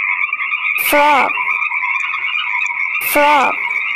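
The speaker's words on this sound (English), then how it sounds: "Frog." Two loud croaks from a frog, spaced about two seconds apart, over a steady chorus of calling frogs or insects.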